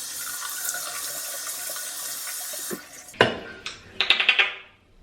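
Tap water runs steadily into a sink for nearly three seconds while a face is washed, then stops and gives way to a few close splashes and drips, with no talking.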